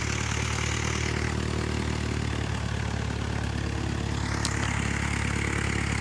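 Steady droning of a Cessna 172 propeller engine, constant and fairly loud, with a low hum underneath and no talking.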